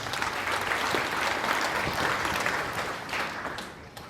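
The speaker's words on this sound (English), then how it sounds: "Can you clap for yourselves?" An orientation-day audience claps for itself, a dense, steady burst of many hands close and loud that carries on for several seconds before thinning slightly toward the end.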